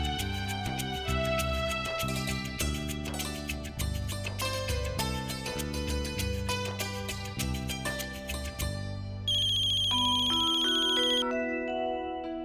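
A phone ringtone plays a bright, repeating electronic melody, close and loud and without talk, as a musical phrase that loops and then shifts to a higher sustained tone near the end.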